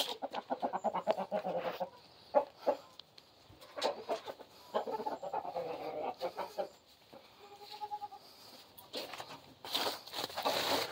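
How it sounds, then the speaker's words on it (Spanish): Chickens being fed corn cluck and squawk close by in rapid bursts, mingled with other farm animal calls, goats among them, with brief quieter gaps between outbursts. "Y por último vamos a darle de comer a las gallinas."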